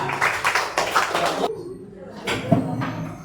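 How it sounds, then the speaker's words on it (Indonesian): Students in a sixth-grade classroom clap together, a dense patter of hands in two bursts separated by a brief lull, fairly close and moderately loud, with a few voices and a chuckle mixed in. "Bagus, tepuk tangan dong"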